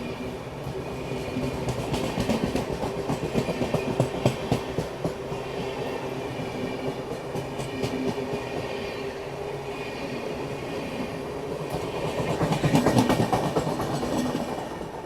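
Pushpak Express passing alongside, heard from inside a moving Amrit Bharat sleeper-class train: continuous rolling rumble with rapid wheel clatter and rattling, swelling louder near the end as the other train draws close.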